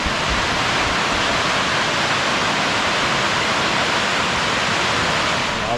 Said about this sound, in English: This should be a better view of the actual waterfall.